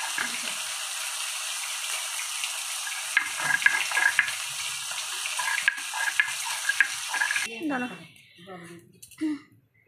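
A ground paste of garlic, ginger and chilli fries in oil with a bright, steady sizzle for about seven seconds, with faint voices underneath. The frying then drops away and a voice is heard near the end.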